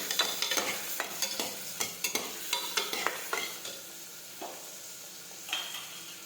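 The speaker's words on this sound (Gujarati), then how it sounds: "ફરી પાછું આપણે સાતળી દઈશું" Bottle gourd dal curry with chopped tomatoes is sautéed in a pan, a soft sizzle under repeated rhythmic spoon scrapes and taps, close but fairly quiet and with no talking.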